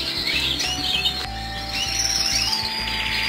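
Show birds being sorted for a competition team in Modena 2024 chirp in quick, bright tweets over a steady background hum, repeating through the stretch at moderate loudness.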